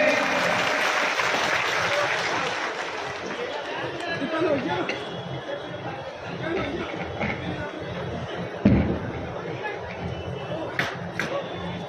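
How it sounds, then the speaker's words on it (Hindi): Applause from an audience of party workers at a BSP political rally, welcoming a national coordinator to the stage; steady crowd clapping mixed with chatter throughout, with a loud thump near the end. "सभी जोरदार तालियों से स्वागत करेंगे।"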